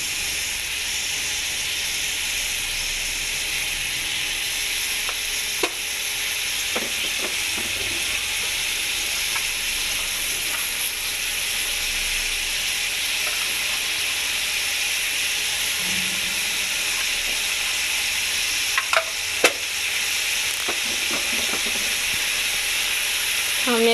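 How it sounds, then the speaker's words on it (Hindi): Beef and tomatoes sizzling in a hot pan while being stirred, a steady bright hiss with occasional scraping clinks of the spoon, close and continuous without talk. "अब मैंने टमाटर डाल दिए हैं तो गोश्त को अब अलग अलग करेंगे, इसको भूनेंगे"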